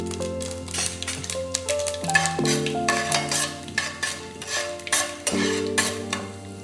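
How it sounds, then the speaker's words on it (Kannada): Mustard seeds, urad dal and chana dal fry in hot oil in a pan for chitranna, giving a steady close sizzle with crackling pops, spoon scraping and clinks against the pan throughout. "ಈಗ ಸಾಸಿವೆ ಹಾಕೋಣ, ಉದ್ದಿನಬೇಳೆ ಹಾಕೋಣ, ಕಡಲೆಬೇಳೆ ಹಾಕೋಣ."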